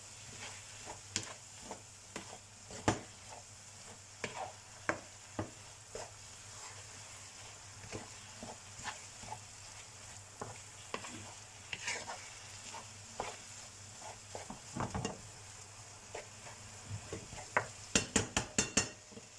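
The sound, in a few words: stirring vegetables in a pan for vegetarian lasagne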